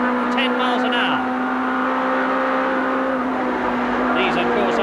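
Heavily modified production saloon touring cars race in the 1991 British Touring Car Championship, engines droning loud and steady with shifting pitch as they pass, under a commentator's voice.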